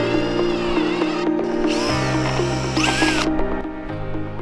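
A power tool cuts through a metal gutter guard screen lined up against a template, a loud whirring grind that shifts pitch and intensity as it bites, with brief changes in tone partway through.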